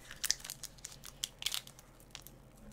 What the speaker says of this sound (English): Hopefully the crinkling isn't too loud for you guys. It's kind of like right by the mic